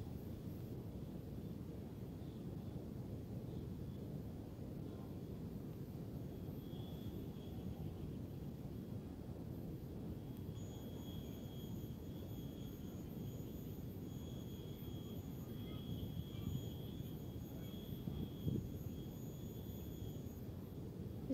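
A 60 kVA diesel genset supplying a sound system at a village celebration drones steadily in a low, broadband roar, with faint high whines over it and no talk.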